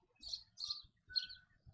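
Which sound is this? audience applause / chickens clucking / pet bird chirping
pet bird chirping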